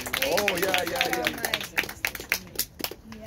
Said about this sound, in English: Come on, give the Lord a clap offering today.